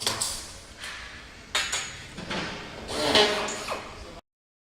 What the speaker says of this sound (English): the door is rolled forward